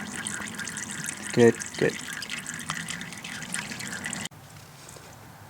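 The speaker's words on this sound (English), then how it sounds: "Okay, the oil is completely drained." Motor oil drips and trickles from a 2008 Suzuki GSX-R 600 during an oil change, a faint steady patter over a background hiss, with someone briefly speaking before the sound cuts to quieter room tone.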